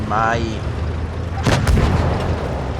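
A heavy tank shell strikes the turret of a German VK100 tank in World of Tanks Blitz, a sharp booming impact midway, with a voice talking just before.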